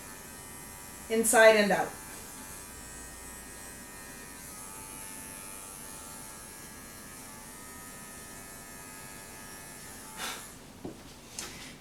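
Electric clippers trimming a poodle's leg give a low, steady hum throughout, close and fairly quiet, with a brief spoken phrase early on and a few soft clicks near the end.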